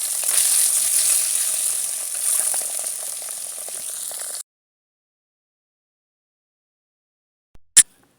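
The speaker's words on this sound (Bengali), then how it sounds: "এখন আমি বাকি মাছগুলোও ভেজে নেব।" Fish frying in oil in a pan, a steady close sizzle for about four seconds that cuts off into silence, followed by a single sharp clank near the end.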